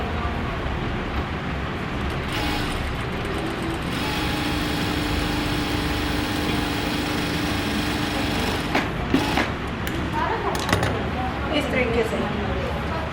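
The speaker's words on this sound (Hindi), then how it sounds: "डबल सिलाई दोनों पे लगानी है।" A sewing machine runs a double line of stitching, a steady fast mechanical whir with a faint tonal hum, while a person talks over it.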